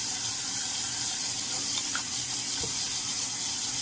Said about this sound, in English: first, wash my face